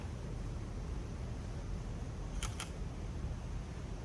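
A camera shutter fires twice in quick succession, two short crisp clicks about a beat apart, near and fairly quiet over a steady background hiss.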